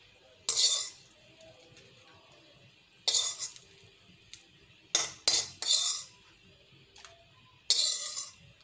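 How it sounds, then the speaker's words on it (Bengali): Fried chillies and garlic are scraped from a pan into a bowl with a metal spoon, giving several sharp clinking and scraping bursts with short pauses between them and no talk. "এবার আমি একটা বাটিতে উঠিয়ে নেব।"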